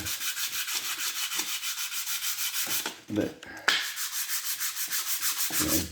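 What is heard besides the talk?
hand sanding engine cylinder head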